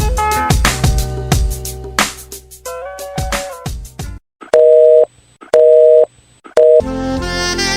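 A telephone call gets through to a busy line: a quick series of melodic dialing tones and beeps is followed by three loud, steady, evenly spaced busy-tone pulses with short gaps, then a brief higher tone.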